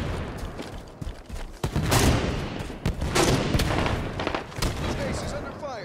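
Heavy gunfire and explosive bursts in a Big Team Capture the Flag match on the Basin map, dense overlapping shots and booms that keep up continuously and loudly, with a player talking over the battle.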